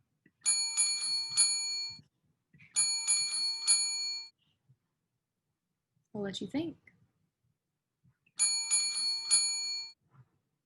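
A bicycle bell rings in three separate bursts of rapid bright dings, each lasting over a second, with a short spoken phrase between the second and third bursts.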